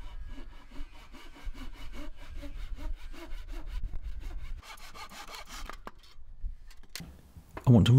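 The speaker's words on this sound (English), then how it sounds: "I find the angle at the bottom of the legs and transfer this further up and then I can get it cut down." A handsaw cuts through a wooden ladder leg being reworked into a plant stand, with steady back-and-forth rasping strokes for several seconds, close and moderately loud. A few knocks and a louder rustle follow at the end.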